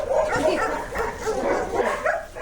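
A small dog whimpers and yips in high, whiny bursts, close and fairly loud, continuing without pause.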